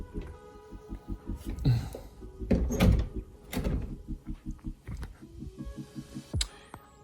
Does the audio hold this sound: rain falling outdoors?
no